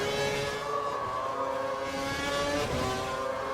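Mercedes Formula 1 car engine in the F1 2012 racing game, a steady high-pitched whine with layered harmonics that swells slightly as it closes in, loud and continuous with no talk.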